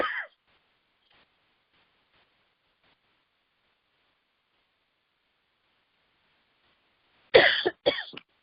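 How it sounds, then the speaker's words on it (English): A person giving a programming lecture coughs loudly twice in quick succession near the microphone, after a brief sound at the start and a long stretch of quiet. "Excuse me, I want to cough."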